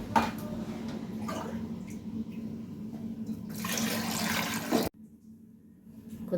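Water gushes steadily into a cooking pot of old rice for bagara rice, two glasses of water to one of rice, a loud rushing pour that stops abruptly, leaving quiet room tone.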